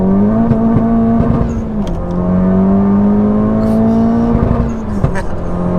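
A modified 420 BHP Honda Civic Type R FK8 revs loudly from inside the car, its engine drone rising and holding with a steady exhaust tone and small crackles, close and dominant throughout.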